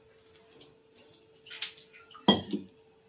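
Cumin seeds go into a pan for tomato chutney, giving faint clinks and rattles of metal cookware and a louder scrape-and-clatter burst near the end, quiet and close with no speech.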